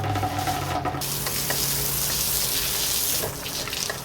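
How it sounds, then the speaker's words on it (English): Tap water running steadily into a sink while hands are washed after a spill of rust-removal chemical, a close, continuous hiss that stays even throughout. "I'm gonna wash my hands."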